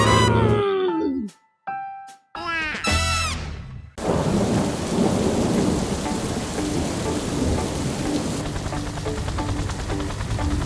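Cartoon thunderstorm: opening sound effects give way to a loud crack of thunder, followed by steady heavy rain pouring continuously for several seconds, close and dense.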